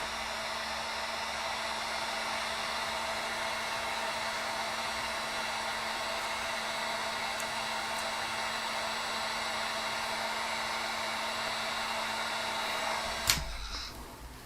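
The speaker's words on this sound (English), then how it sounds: "So I do have this handy dandy heat gun. Let's heat this thing up." A heat gun blows steadily on a 3D printed minotaur head, a constant whooshing roar that holds for several seconds before cutting off with a click near the end.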